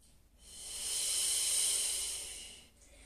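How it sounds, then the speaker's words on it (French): Slow, deep yoga breath drawn in and let out through the nose and mouth, a soft airy hiss that swells and fades over a few seconds, close and quiet with no talking. "Encore une respiration."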